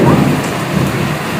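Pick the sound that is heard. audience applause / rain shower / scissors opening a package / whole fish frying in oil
rain shower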